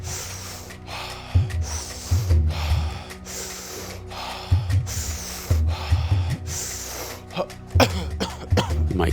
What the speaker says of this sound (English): You might cough, you might have some body responses like I just did there.